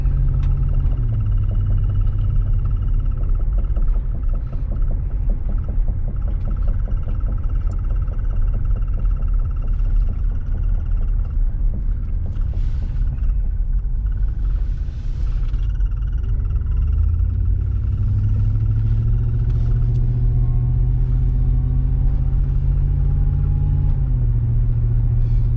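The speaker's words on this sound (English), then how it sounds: "Transmission shifts nicely." A car's engine drones steadily while driving, its pitch falling and rising again as the automatic transmission shifts gears. The sound is loud and continuous with no talking.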